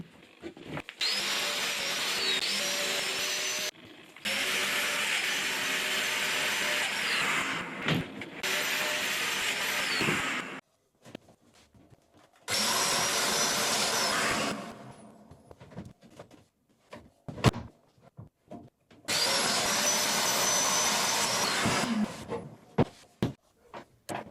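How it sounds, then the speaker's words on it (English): A domino joiner cuts mortises for regular-size dominoes into wardrobe boards in several loud, close bursts of a few seconds each, with extraction whine, separated by quiet pauses and small clunks. "start cutting the domino mortises for the regular sized dominoes"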